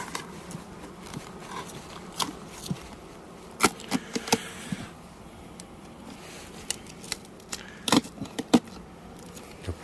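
Honeybees hum faintly inside a hive as pollen patties are laid on the frames in early spring. Scattered clicks and light taps from handling the hive sound over the buzzing.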